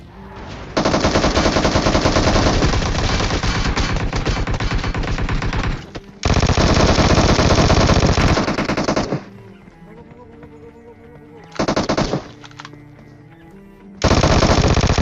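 Vector submachine gun fire in PUBG, long sustained full-auto bursts that are loud and close, broken by short pauses and a brief burst, with no talking over the shooting.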